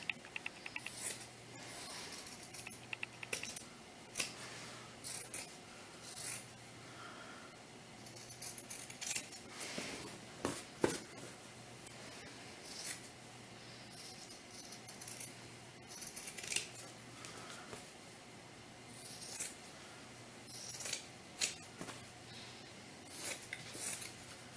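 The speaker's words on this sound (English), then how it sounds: "let's just go ahead and cut that out" Scissors snipping out a printed design for a doll t-shirt, faint irregular cuts and small clicks spread across a quiet room, with short pauses between runs of snips.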